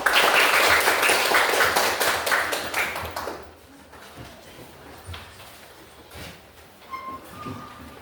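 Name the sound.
applause for the first group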